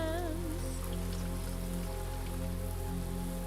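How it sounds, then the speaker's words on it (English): Steady rain falls inside a greenhouse in a video game, a constant even patter with a faint musical tone layered underneath. "It's always raining in the greenhouse."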